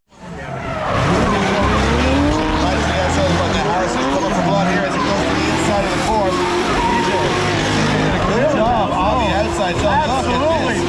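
Drift race cars at a drift invitational event, a lead and chase car sliding through a technical run, tires squealing loudly and continuously over roaring engines, with a commentator talking over the action.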